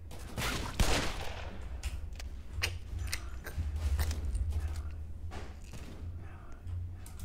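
Gunfire in a Roblox zombie survival game, with sharp bursts of shots scattered over a steady low hum and some mechanical clacks, mixed in the game.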